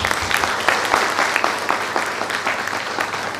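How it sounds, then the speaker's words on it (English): Students and guests at a government schools awards ceremony in Goa break into loud applause, a close, lively mix of many hands clapping with sharp individual claps standing out, steady throughout. "Please give yourself a big round of applause."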